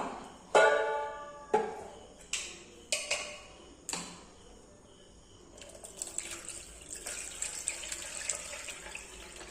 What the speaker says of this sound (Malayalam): ഇനി നമുക്കിത് വേറൊരു പാത്രത്തിലേക്കൊന്ന് അരിച്ചെടുക്കാം